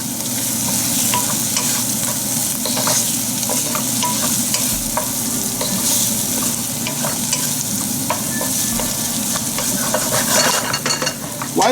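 Onions and vegetables sizzle and fry in a pan over reduced heat, with a steady crackling hiss broken by occasional stirring scrapes and clinks.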